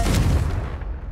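A Confringo fire spell from Hogwarts Legacy bursts in one loud, close, booming blast that quickly fades, with no one speaking.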